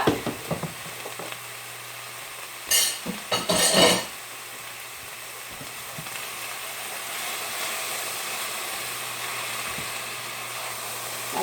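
Cooked noodles get stirred in a pot, a brief cluster of scraping and clattering strokes rising over a steady soft hiss that continues alone afterward.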